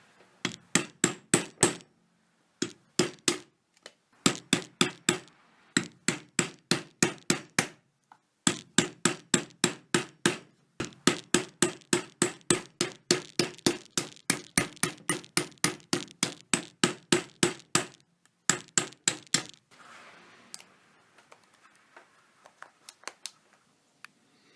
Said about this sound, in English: To open it up, we're going to use a thick steel knife with a flat edge on one side